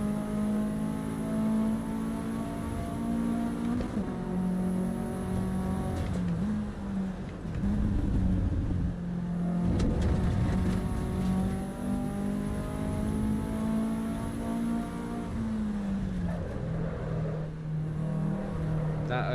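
Race car engine in the Assetto Corsa Evo game, loud and steady with harmonic drone shifting pitch as the car brakes and oversteers, revs dropping and rising through the lap, with a voice briefly over it.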